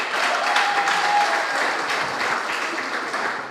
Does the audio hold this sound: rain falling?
no